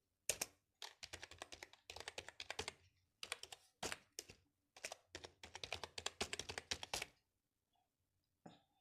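Rapid clicking of keys on a computer keyboard as an email address is typed in to fill out an online form, bursts of quick close taps broken by short pauses, quiet and with no talk.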